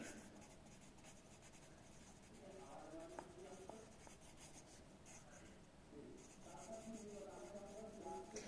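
Handwriting on paper gives a quiet, steady scratching and rubbing of the pen, close by and continuing for several seconds, with faint speech in the background.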